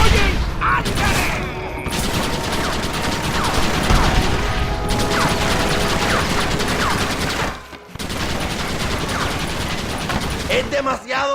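Dense gunfire and cannon blasts from the video game Red Dead Redemption, with rapid overlapping shots for most of the span, a brief lull, then more firing, and shouting voices mixed in.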